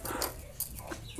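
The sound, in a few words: native hens clucking while being fed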